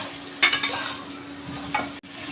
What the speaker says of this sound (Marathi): कैरीचे फाका आपण 2 ते 3 मिनिटं चांगल्या प्रकारे परतून घेऊ